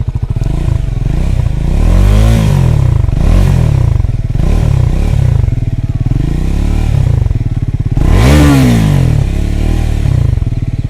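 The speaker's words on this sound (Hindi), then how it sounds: "इसका जो एग्जॉस्ट साउंड है वो एक बार सुना दो प्लीज़" A Triumph Scrambler 400X motorcycle's exhaust revs in several sharp, loud bursts, rising and falling, with the biggest surge near the end, close by and with no talk over it.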